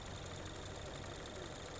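A 2016 Ford Fusion Titanium with a 2.0 petrol engine and automatic gearbox idles evenly, a faint, steady low hum with a light regular ticking throughout.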